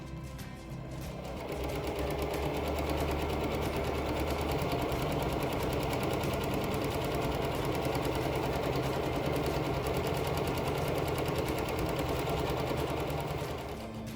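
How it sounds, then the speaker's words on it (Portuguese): A sewing machine stitches a seam along one side of a fabric bag for holding crochet or knitting supplies. Its motor whirs in a rapid, even run lasting over ten seconds, close and steady, with no talking. "E vamos passar uma costura aqui de cada lado, tá?"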